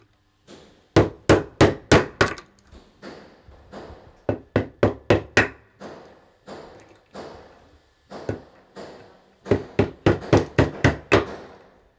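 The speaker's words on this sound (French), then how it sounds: "Fichu noué sur la tête et marteau en main, Faten Alali brise de petits morceaux de mosaïque qui formeront bientôt une œuvre." Hammer blows break small pieces of mosaic tile, landing as sharp, close, loud strikes in quick bursts of four to six with short pauses between. No voices are heard.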